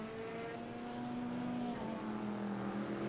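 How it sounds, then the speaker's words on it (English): Race car engines drone in a GT sprint sim racing game, several cars holding steady high-revving tones that rise and shift as they circle, moderately distant and continuous, with no talking. "We still get to watch the cars go around and make sounds"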